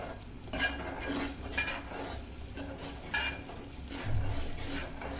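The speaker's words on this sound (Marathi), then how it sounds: "तेल सुटूपर्यंत हे परतून घ्यायचं आहे." Masala sautéing and being stirred in ghee in a pan, a quiet steady sizzle with soft periodic scrapes of a spoon.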